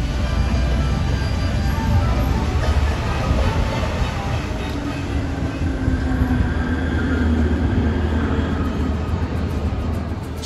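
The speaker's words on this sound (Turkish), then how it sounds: "şimdi metrodayım." Steady, loud rumble and roar of a Medellín metro train in motion, heard from inside the carriage with constant rail noise and no talk.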